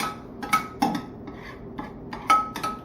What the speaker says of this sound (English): just a spoon to spread it out